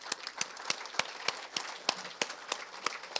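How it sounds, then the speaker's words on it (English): Sparse, quiet clapping from a small group at a donor wall unveiling and 40th anniversary celebration, with individual hand claps standing apart in an uneven rhythm. "if you could give them a round of applause, that would be great"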